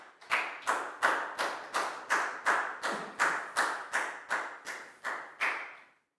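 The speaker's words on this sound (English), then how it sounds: "Big round of applause for Nadia" Classroom applause for a pupil named Nadia: a small group claps in a brisk, regular rhythm, about a dozen distinct unison claps close by, then stops abruptly.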